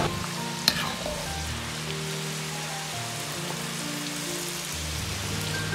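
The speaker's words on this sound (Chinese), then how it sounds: "保持中火炸至大概两分钟左右，用勺子推动，让其受热均匀" Corn kernels fry in oil over medium heat while a spoon pushes them around, giving a soft, continuous crackling sizzle with a single sharp tap near the start.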